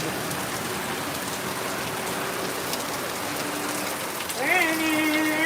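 Steady summer rain patters down on surfaces in a dense, even hiss, with a voice speaking over it near the end.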